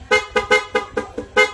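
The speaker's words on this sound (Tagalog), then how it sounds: "ang kinabit natin PIA auto style horn, dual horn setup, meron kasamang rapid mode" A PIA auto style dual horn fitted to a Honda Click scooter honks in six quick, loud, close bursts with a brief pause between each one, as in a rapid mode.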